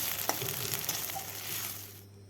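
Potatoes sizzle steadily in a pan for a Dhenki shak chorchori, with a few stirring clicks near the start, before the frying drops away abruptly near the end.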